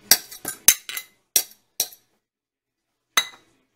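Coconut oil goes into a pan for a homemade cayenne salve, with several short, bright metal-and-glass clinks in a quick cluster, then a pause and one last clink, close by with no talking.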